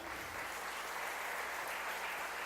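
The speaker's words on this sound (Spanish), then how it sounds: "Dale un fuerte aplauso al Señor." A church congregation gives a strong round of applause during a worship service, producing a steady, even wash of many hands clapping, heard at a moderate distance and fairly faint, without talk on top.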